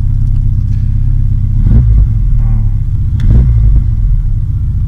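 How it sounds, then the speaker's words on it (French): A Volkswagen Golf 2 16S engine fires up after a timing belt change, settling into a loud, steady idle rumble with a couple of brief revs blipping over the close, continuous drone. "J'ai fait un petit démarrage avant de partir quand même."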